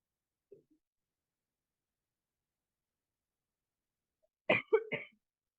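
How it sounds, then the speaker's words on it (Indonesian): A faint tiny sound early on, then a quick burst of two or three sharp coughs close by after near silence. "Saya lagi batuk juga."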